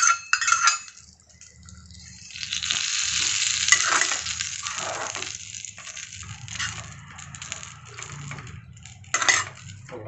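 Plantain stem kootu with dal, stirred and mixed in a pan, giving intermittent close scraping and clinking with a soft sizzle between strokes.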